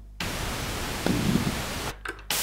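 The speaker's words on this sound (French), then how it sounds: "Et ça peut être du bruit blanc ou du bruit rose." A Behringer Model D analog synthesizer's noise generator gives a steady, dense hiss of static, cut by short gaps near the end and then switching to a brighter hiss.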